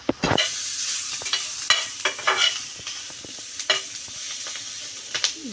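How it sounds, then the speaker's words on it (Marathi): Green chillies fry in a pan with a steady, close sizzle and hiss, broken by frequent sharp clicks and scrapes of stirring throughout; no one speaks. "असे मिरची जरा डाग पडेपर्यंत आपल्याला अशी फ्राय करायची आहे"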